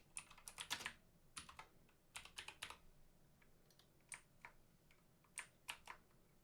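Typing on a computer keyboard by someone wearing rings: quick bursts of crisp, fairly faint clicks and taps, with short pauses between flurries.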